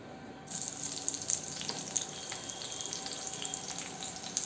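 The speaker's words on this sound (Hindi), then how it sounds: "सबसे पहले हमने जो प्याज कट किए हुए हैं इनको सॉटे करेंगे।" Chopped onions sizzle in refined oil in a wok, a steady, close hiss with small crackles and pops that starts abruptly and continues evenly.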